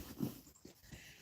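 A dog being let into a house pants and whimpers faintly in a brief, quiet moment.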